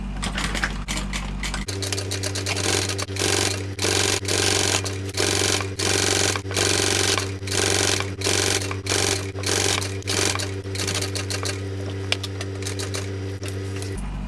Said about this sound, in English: I'm going to top stitch it from the solid grey vinyl side.